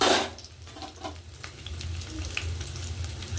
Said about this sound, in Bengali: দেখুন পেঁয়াজটা লাল লাল করে ভেজে নিচ্ছি